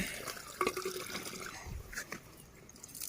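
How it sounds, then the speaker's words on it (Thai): Water is poured onto flowers in a sunny garden, a soft, uneven splashing and trickling with scattered drips, fairly quiet and close. "นี่เอามาเป่งน้ำใส่จังซี่ให้มันไหลหกละลายไปเนาะ"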